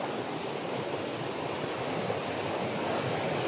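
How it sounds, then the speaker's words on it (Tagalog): A creek in the countryside rushes past in a steady, close, broadband wash of flowing water, continuous and even throughout with no voices. "Ito na yung sapa na dinaanan nila Johnny."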